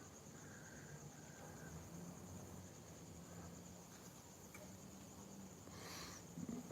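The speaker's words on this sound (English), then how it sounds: "I think there are some crickets at Key Largo" Crickets chirp with a constant high-pitched trill over a quiet outdoor night background, faint and steady throughout.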